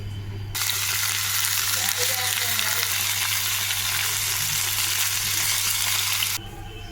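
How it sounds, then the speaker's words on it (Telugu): Tomato pieces fry in a kadai with a loud, steady sizzle that starts abruptly and holds for several seconds, then cuts off near the end. "టమాటా ముక్కలు వేసి వేయించేసుకుందాం."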